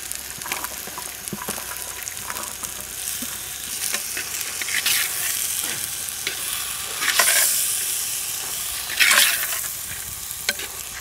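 Chopped figs stir-fried in oil with softened tomato sizzle steadily in a pan, with scraping stirs and louder bursts of frying now and then, no voices.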